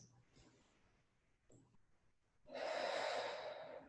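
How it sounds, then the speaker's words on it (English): Slow breathing during a gentle yoga flow: a couple of quiet, soft breaths, then a louder, fuller exhale near the end, close and alone. "2 more breaths."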